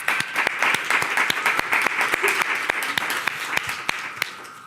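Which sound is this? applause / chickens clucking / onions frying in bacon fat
applause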